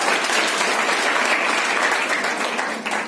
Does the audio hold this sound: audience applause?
yes